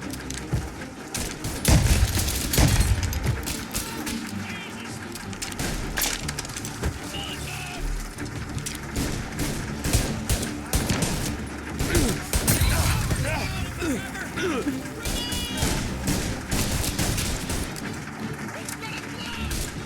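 Dense gunfire and booms from the Mafia Definitive Edition video game, continuous loud shooting with frequent bursts, layered under shouted in-game voices throughout.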